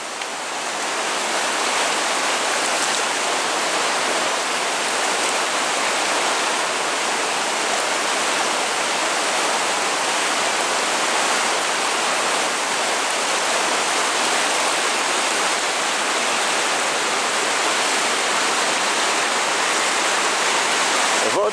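Powerful rushing water roars continuously, a river swollen by storms and heavy rain churning with a strong current in Kłodzko Valley, Poland, loud and close with no voices.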